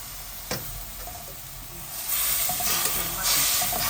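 Sizzling hiss of curry paste stir-frying in a hot pan, surging louder as water is poured in, with a sharp knock of a utensil and intermittent scraping stirs close up.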